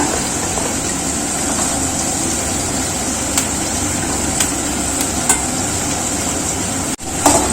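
Carrots, beans and peas sauté in a hot pan, giving a steady close sizzle throughout with a few faint clicks and a sharp knock near the end, no talk.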